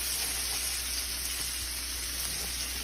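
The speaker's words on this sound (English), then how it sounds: "we're gonna saute those now real nice" Onions seasoned with black pepper and salt sauté in a pan, giving a steady, soft sizzle with a constant hiss that holds evenly throughout, close and fairly quiet, with no talking.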